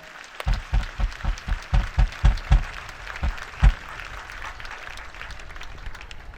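A church congregation gives a short burst of applause, with a run of about nine evenly spaced heavy claps or thumps at the start, a couple more after, and a softer patter of scattered clapping throughout.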